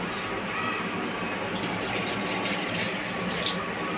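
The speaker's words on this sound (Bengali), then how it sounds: "এবার আমি এর মধ্যে জল দিয়ে দেব।" Water pours into a pot of braised duck meat, a continuous close splashing rush that holds steady throughout.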